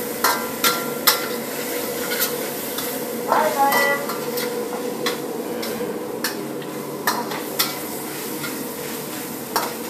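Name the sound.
chicken karahi sizzling and being stirred in pan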